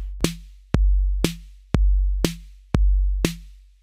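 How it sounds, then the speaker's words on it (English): A Roland TR-808 drum machine plays a basic 4/4 beat: deep booming kicks alternate evenly with sharp snare hits, about six strikes in steady rhythm, loud and close with no voices. "we're going to have snare on 2 and 4 and a kick on 1 and 3"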